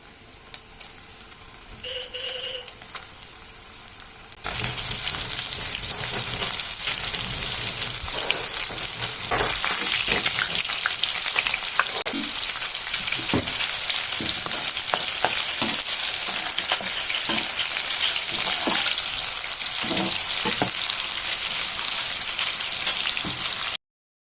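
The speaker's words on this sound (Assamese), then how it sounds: "আৰু এতিয়া মই এয়া গৰম তেলত ফ্ৰাই কৰিম।" Flour-coated chicken popcorn pieces drop into hot oil and fry with a loud, dense, continuous sizzle and crackle that starts abruptly after a quiet moment and continues close up, with no voices.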